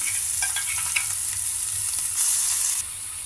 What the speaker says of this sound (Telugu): ఈ పేస్ట్ను కొద్దిగా పచ్చివాసన పోయేదాకా వేయించుకోవాలి